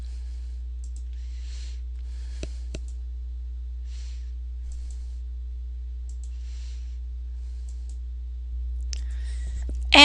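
Two sharp, faint clicks from a computer mouse come close together in an otherwise quiet room with a low steady hum, followed later by a slight rise in background noise.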